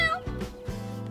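A cat meows twice in quick succession, close and clear, with a short higher tone at the start and no talking.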